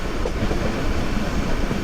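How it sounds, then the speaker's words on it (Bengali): At Narsingdi railway station, a train produces a dense, loud rumble of wheel and carriage noise, steady and continuous throughout the short stretch. "নরসিংদী রেলওয়ে স্টেশনে অলরেডি একটি ট্রেন দাঁড়িয়ে আছে।"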